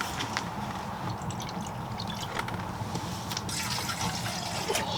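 Water pours into a measuring cup in a hot tent while preparing fried rice at a campsite, a steady close splashing stream that lasts the full few seconds with no voices.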